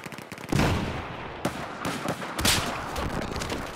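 Gunfire, including sniper shots, in a 12v12 multiplayer video game match: several sharp bursts and cracks at varying distances over a busy, rumbling battle backdrop.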